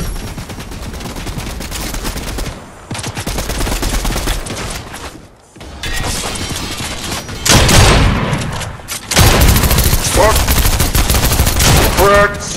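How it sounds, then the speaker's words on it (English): Heavy gunfire in Fortnite comes in long, loud automatic bursts, split by short gaps and a brief lull before the shooting surges back even harder near the end. "there's more shooting over this way"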